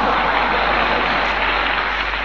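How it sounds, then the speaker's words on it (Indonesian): A steady wash of clapping from a crowd, even and sustained throughout, heard alone without speech. "dan tepuk tangan."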